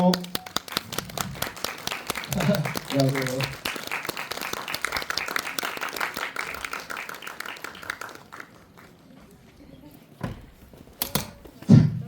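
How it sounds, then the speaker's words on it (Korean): A cinema audience at a release-day film talk event at CGV Yongsan applauds as the director and cast walk in. Steady, moderately loud clapping fills most of the stretch, with a voice speaking briefly at the start and again near the end. "큰 박수 부탁드릴게요."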